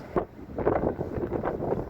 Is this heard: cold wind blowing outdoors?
yes